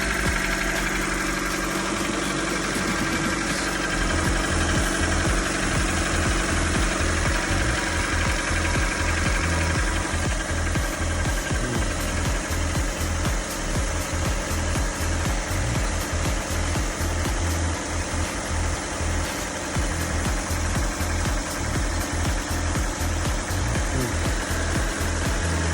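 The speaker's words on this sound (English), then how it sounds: "engine is on." A Honda car engine runs at a steady idle with a constant low rumble and faint rhythmic knocking, loud and close throughout.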